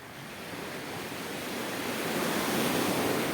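Sea waves wash against the shore on a Turkish seaside outing, a dense continuous roar of surf that swells slightly louder over a few seconds, with no voices.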